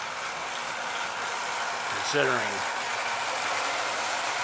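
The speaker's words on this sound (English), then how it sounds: "That little 1950 engine, Unique Lines, is running a lot better than I thought it would" A 1950 Unique Lines O gauge model train engine runs with a steady, even mechanical whir that holds throughout, while a voice speaks briefly over it partway through.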